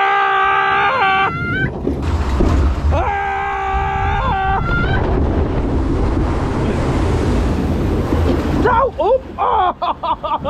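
Rushing water splashes and sprays on a theme park water ride at Knoebels amusement park, loud and close, with riders shouting and screaming over the wash.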